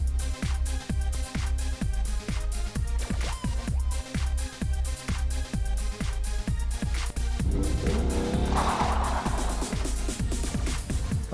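A Ford Mustang with a 5-litre V8 accelerating hard, loud deep engine roar rising in pitch through repeated gear changes, each shift marked by a brief drop before the note climbs again, heard close and without talk.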